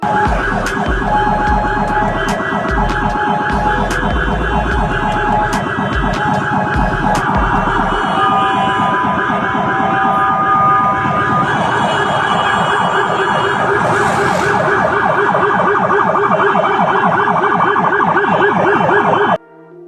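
An ambulance siren wails loud and continuous for the whole stretch, its rising and falling tone cycling steadily while it passes Trans Jateng and Trans Semarang buses in traffic, with road and engine noise underneath.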